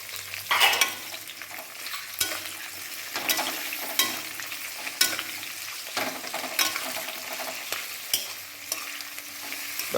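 Minced mutton keema frying and being stirred in a pan for a Kolkata-style ghugni, with steady close sizzling broken by scraping stirs and occasional sharper knocks of the spoon, no voices.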